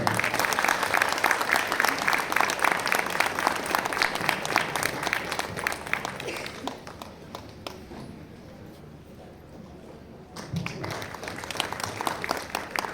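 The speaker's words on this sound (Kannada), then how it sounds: "ಯಾಕೆ ಚಪ್ಪಾಳೆ ಜೋರು ಹೊಡ್ತೀರಿ" Audience applause at a Kannada comedy play: dense sustained clapping from a crowd that fades to a quieter lull with some talk around eight to ten seconds, then swells again into renewed loud clapping.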